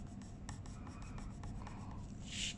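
Colour pencil shading on paper, a steady close scratchy rubbing of pencil strokes with short repeated pulses, growing a little louder and brighter near the end, no voices.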